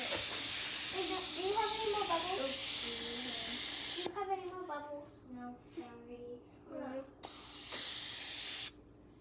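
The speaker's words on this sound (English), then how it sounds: "Let's spray the can." An aerosol spray can hisses in long loud bursts, one lasting several seconds and another shorter one near the end, while someone speaks over and between the sprays.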